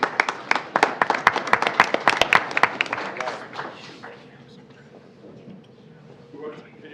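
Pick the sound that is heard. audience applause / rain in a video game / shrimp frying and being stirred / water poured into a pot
audience applause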